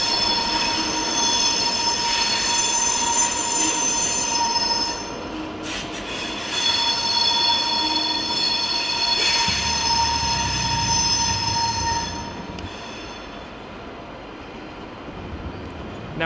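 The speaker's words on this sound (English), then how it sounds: "There's the ICE train here." An ICE train rolls through near Munich main station in the evening, a steady loud rumble of wheels on rails with sustained high squealing, without any talking.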